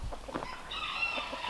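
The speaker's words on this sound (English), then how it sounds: "I just love seeing these chickens play on the compost pile." Chickens clucking as they scratch and peck around a compost pile near a coop, a few soft clucks and chatters close by over steady outdoor background noise.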